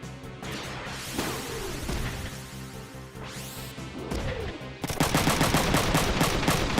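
Machine gun fire in the mech video game Front Mission 3 comes as several rapid bursts with whooshing sweeps, then a dense, loud, sustained volley in the last couple of seconds.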